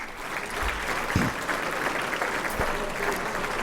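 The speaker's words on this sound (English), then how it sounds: "a big round of applause for all of these class reps" Alumni and guests at a dental school celebration night give a sustained round of applause for class representatives, many hands clapping in a full, steady crowd sound with a few low thumps mixed in.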